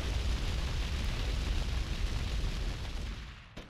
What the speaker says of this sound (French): Oh, le son des explosions, vraiment bof.